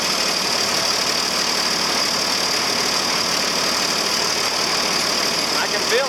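An engine labelled 4320 idling, a steady loud broadband drone that holds evenly throughout without pauses.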